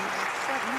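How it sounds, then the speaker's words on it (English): Olympic crowd at London 2012 applauding a gymnastics routine: dense, steady clapping and crowd noise throughout, with a commentator's voice running over it. "just listen to the crowd here"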